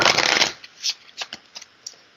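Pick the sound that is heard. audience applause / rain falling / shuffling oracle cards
shuffling oracle cards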